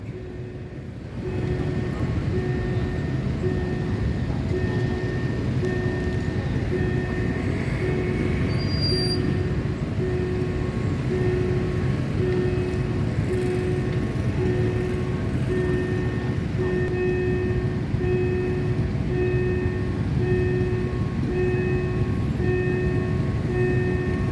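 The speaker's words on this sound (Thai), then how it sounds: "รถไฟค่อยๆมานะขบวนนี้ก็จะเป็นขบวน 4384 ต้นทางแม่กอง ปลายทางบ้านแหลม" Train 4384 on the Maeklong Railway, Thailand, rumbles steadily nearby at the Wat Pom Kaew level crossing, rolling slowly and continuously with a low engine drone and faint ringing tones above.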